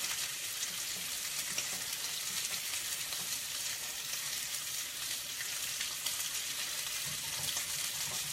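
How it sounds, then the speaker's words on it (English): Red wine reduction bubbling hard in a pan, a steady, dense sizzling hiss close up that holds evenly throughout with no voices over it. "this is boiling up nice"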